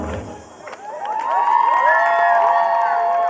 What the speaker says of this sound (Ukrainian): Ваші бурхливі оплески Катерині Вікторівні та Єгору.